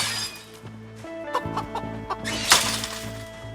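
Chickens in the survival game Project Zomboid give short, repeated clucks and squawks close by over a low game ambience, with a louder burst near the end.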